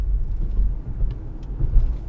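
A 2021 Ford Mustang Mach-E electric SUV accelerates hard, heard from inside as a steady low road and motor rumble with no engine note, continuous and fairly loud.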